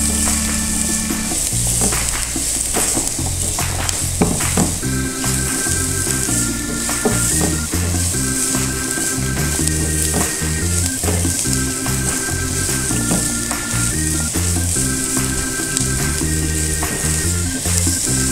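Onion with ginger and garlic paste frying in a pan for hot and sour soup, a loud steady sizzle with occasional stirring scrapes, close and continuous with no talking.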